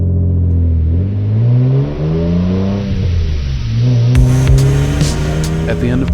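A right-hand-drive Nissan Skyline R33 GTS accelerates hard from inside, the engine note climbing through rising revs with shifts between gears, loud and close, with a voice speaking partway through.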